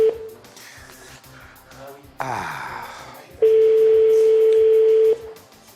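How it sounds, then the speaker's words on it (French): Telephone call placed to a party office in France: a brief dial tone, a burst of keypad dialing tones, then a loud, steady ringback tone that holds for a couple of seconds before cutting off, with no talk over it. "Ça sonne."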